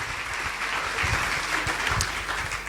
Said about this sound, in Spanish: Démosle un aplauso al Señor Jesucristo.